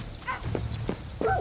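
Dog barking in the video game Far Cry 6: several short, sharp barks recur at fairly even intervals over a low steady game background, moderately loud and without speech.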